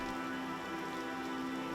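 Rain falls steadily onto surfaces in a soft, continuous patter, fairly quiet and even throughout, with no voices.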